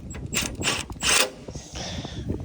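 Ratcheting wrench clicks in quick bursts as bolts are tightened on a crash bar with intercooler brackets on an Acura RSX, close and fairly quiet, with mechanical clatter between the bursts.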